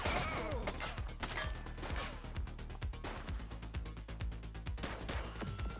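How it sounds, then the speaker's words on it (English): Rapid, loud bursts of gunfire in the police video game The Precinct, with repeated sharp shots in quick succession mixed with game effects and a dense, busy action soundscape throughout. "She's shooting!"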